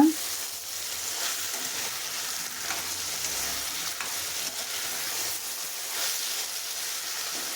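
An onion rice mixture with salt is stirred in a pan, giving a continuous soft sizzle with faint scraping, steady and close without voices.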